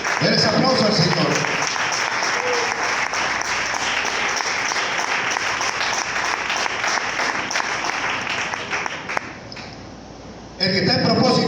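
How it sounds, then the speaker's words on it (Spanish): A church congregation applauds during a sermon, long dense clapping that fades out near the end before a preacher's voice resumes. "Denles aplauso al Señor."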